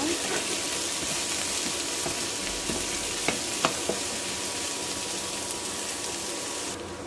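Chopped garlic and onion fry in a pan for broccoli prawn pasta, a dense continuous sizzle with a few soft clicks of stirring, close up and with no voice.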